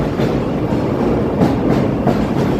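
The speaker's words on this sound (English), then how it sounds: "There's the train around the bend there" Chicago elevated train rounding a bend downtown, a loud close rumble with rhythmic clickety-clack wheel beats over a few seconds, with no talk.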